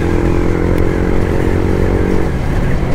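A Yamaha MT-15 150cc motorcycle downshifting with rev-matching blips, a steady loud close engine drone that rises and dips in pitch, heard alone without talk.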